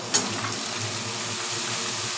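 Loud, steady sizzling as chopped ash gourd and potato go into a hot wok with fried prawns, right after a brief clatter, continuous and close throughout.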